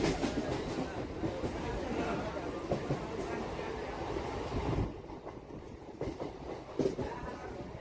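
A passenger train in motion on the way to Mayapur, with a steady rumbling rattle of the carriage throughout and a dip in level partway through, and some voices in the background.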